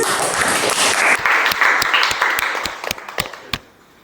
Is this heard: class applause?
yes